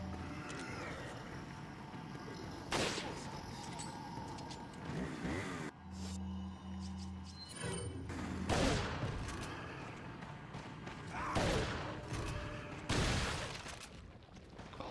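Gunshots in Resident Evil 4 HD, including a shotgun, crack out in scattered bursts over a busy background of game noise, with a low electronic hum in the middle.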